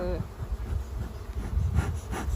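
Honeybees buzz around an open hive during a swarm inspection, a close, continuous droning hum that swells and fades as insects pass, with faint handling noises and no speech.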